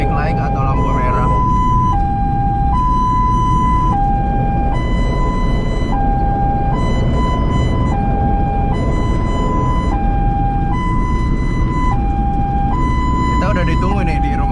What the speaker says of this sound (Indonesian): Seperti itu ya guys ya, kalau ambulans di traffic light atau lampu merah